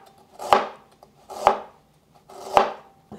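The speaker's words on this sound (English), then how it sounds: "I have about a thumb-sized piece of ginger that I'm slicing up" A knife slices a thumb-sized piece of ginger thinly on a cutting board, producing three distinct, evenly spaced chops, close and crisp with quiet pauses between, no talking.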